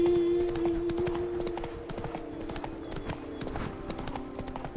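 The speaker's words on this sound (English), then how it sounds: "Manggil kuda lah. Roach, di mana kamu, Roach?" Roach, Geralt's horse in The Witcher 3, trots steadily with close, rhythmic clip-clop hoofbeats, set against a sustained tonal game hum.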